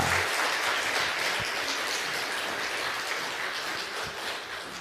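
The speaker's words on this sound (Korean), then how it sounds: "우리 김홍수 교수님을 소개하겠습니다. 박수로 맞이하겠습니다." Church congregation applauding to welcome a mezzo-soprano guest speaker, a dense, even wash of clapping that holds steady throughout at moderate volume, with no voices over it.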